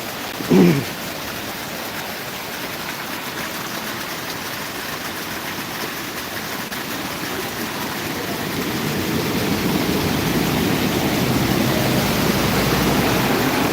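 Heavy rain pours down over the village of Gaddi in Mansa district, Punjab: a dense, steady roar of broadband hiss that swells louder over the final seconds, with a brief thump near the start and no talking.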